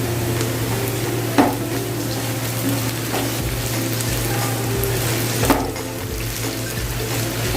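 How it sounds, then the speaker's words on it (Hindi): Finely chopped potato pieces fry with onions in a pan, giving a continuous sizzle over a steady low hum, with a couple of sharp clacks of a spoon against the pan. "इनको भी फ्राई करूँगी इसमें डाल के।"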